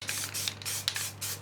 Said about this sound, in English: I'm going to give a bit of a spray.